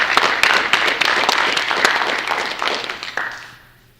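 Audience applause for high school wrestlers at a winter sports awards event, a burst of crowd clapping in a hall that tapers off and dies away over the last second.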